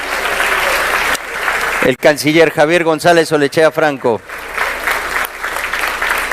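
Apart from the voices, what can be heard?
audience applause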